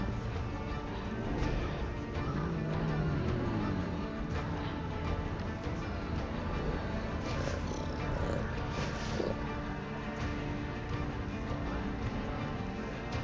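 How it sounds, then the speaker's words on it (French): Cats purring in the video game 1666 Amsterdam, a soft low continuous purr under faint game music, quiet and steady throughout. "Et ils ont fait plein de chats. Ils ont tous des petites animations."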